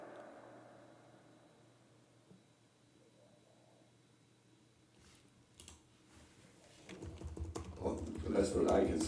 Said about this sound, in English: I was typing something for work